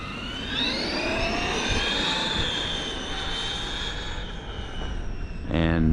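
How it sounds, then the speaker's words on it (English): A Traxxas X-Maxx RC truck with a TP motor lets out a loud, jet-like whine, its pitch sliding upward as it runs, then ends in a quick rattling burst. "that TP motor sounds like a jet"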